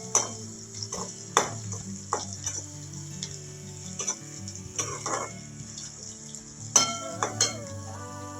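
Onions sizzle steadily in a hot pan for upma, a continuous close frying hiss broken by repeated clinks and scrapes of a spoon stirring against the pan.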